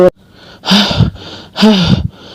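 Two loud, heavy gasping breaths, a voice imitating a crow panting, with a short pause between them.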